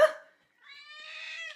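A cat gives one clear, fairly close meow after a short sharp noise and a brief pause. It sounds alone, with no talk.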